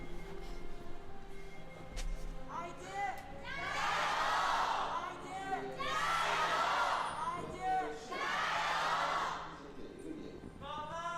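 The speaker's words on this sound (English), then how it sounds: "Let's let the crowd take it from here for a second or two." Esports fans in a packed arena at an LPL League of Legends match between IG and FPX roar and cheer in three big swelling waves, loud and close, with commentators' voices faintly underneath.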